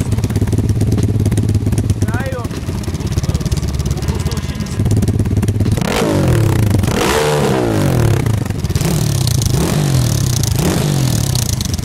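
Loud Kayo 140 and Wels CRF 140 pit bike engines idling and revving close by, with bursts of throttle rising and falling over a constant rumble.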